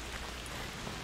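Steady rain falls in A Plague Tale: Requiem, a dense continuous hiss of drops on surfaces that fills the whole moment evenly, with no voices over it.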